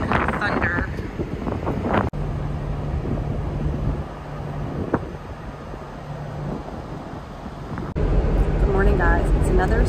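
Strong wind buffets the microphone on an open upper deck of the Carnival Legend cruise ship at sea, a steady roaring rush with a person talking over it.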